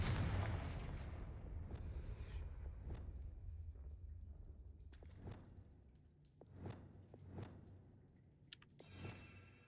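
A Confringo blasting spell goes off in Hogwarts Legacy, heard as several separate booming blasts spaced a second or two apart over a low rumbling game background, with a louder whooshing burst near the end.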